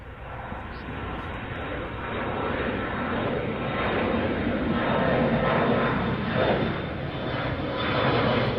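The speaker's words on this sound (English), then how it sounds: "is that an A321 Neo as well?" An Airbus A321neo jet passes over at Chicago O'Hare, giving a steady, loud broadband engine roar that holds for the whole stretch and swells slightly toward the end.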